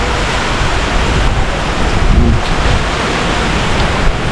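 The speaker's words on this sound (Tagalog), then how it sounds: "Malakas na yung hangin." Loud, roaring wind from Typhoon Pepito at night, a dense continuous rush with gusts buffeting the microphone and no talking.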